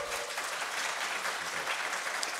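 Crowd applause at a Star Wars Celebration London panel, dense continuous clapping from a large audience, fairly distant and steady throughout.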